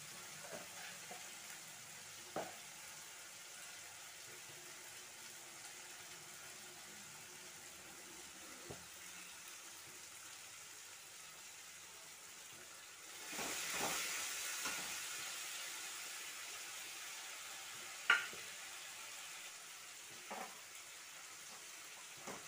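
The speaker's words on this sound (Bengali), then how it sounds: "ভালো করে এই মশলাগুলোকে ভেজে নিচ্ছি।" Spices frying in oil in a pan for doi katla, a soft steady sizzle close by, with occasional stirring clicks and a louder hissing surge midway, no talking.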